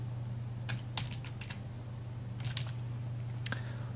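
Password being typed on a computer keyboard, a quiet run of scattered key clicks in irregular bursts over a steady low hum, with no one talking.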